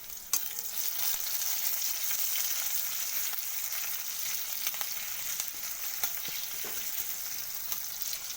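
Chopped onion sizzles in hot oil with panch phoron for a Bengali fish-oil chatpati, a continuous close frying hiss broken by occasional scrapes and taps of a stirring spoon.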